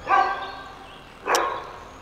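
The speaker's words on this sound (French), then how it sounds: "Oh, le chien, là" A dog barks twice, close and fairly loud, with about a second between the two barks, over a faint steady background and no talk.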